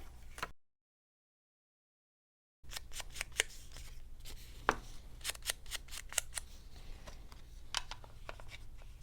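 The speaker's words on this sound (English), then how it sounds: "And I'm going to cut a notch in this as well." Scissors snip a notch into paper for a journal page, a quick series of crisp, close cuts with a short silent gap before the snipping resumes.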